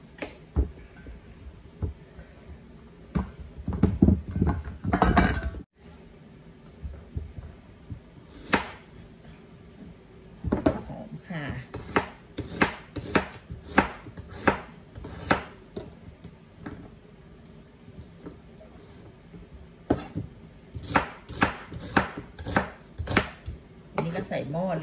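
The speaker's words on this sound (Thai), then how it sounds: "หั่นผักก่อนนะคะ" A knife chops vegetables on a cutting board for an Indian beef curry, giving irregular clusters of sharp, close chops with short pauses between them.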